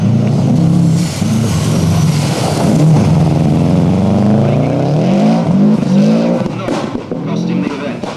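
A new Subaru Impreza rally car drives the Weston Park stage of the 1993 Network Q RAC Rally, its engine loud and close, holding a steady note and then sweeping up and down through the revs while a commentator talks over it.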